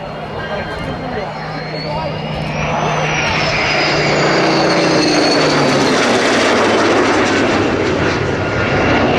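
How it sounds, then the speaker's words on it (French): A Rafale jet and a Spitfire fly a low strafing pass at an airshow, a loud, building roar of engines that swells and sustains as the aircraft pass, with someone commentating over it. "une passe de strafing entre un Rafale et un Spitfire"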